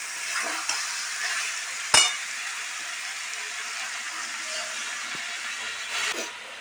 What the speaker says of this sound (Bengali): একটু বেশি করে জল দিচ্ছি